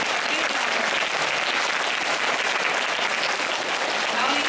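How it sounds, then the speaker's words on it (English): Sustained applause from a large crowd at a school Republic Day celebration, loud and steady for the whole stretch with no pauses. "let's have a round of applause for the teachers"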